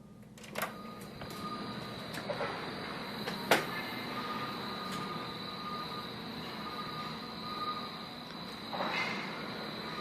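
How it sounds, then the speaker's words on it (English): Railroad maintenance work at night heard from outside, a steady mechanical drone with a sustained high whine and occasional distant clanks and knocks, moderately loud and continuous with no talking. "10:52 on a Thursday night. They're working on the railroad. I'm going to hear this all night."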